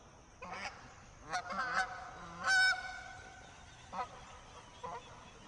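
Several geese honk in scattered, overlapping calls at a moderate distance at Carter's Caves Park, one louder blast in the middle, with a quiet outdoor hiss beneath.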